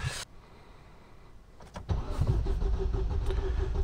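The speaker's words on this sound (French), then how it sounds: "Bon, on va tenter le démarrage, hein" A car engine cranks briefly after a timing belt repair with an emptied fuel injection rail, then catches and settles into a steady, loud idle, heard close up.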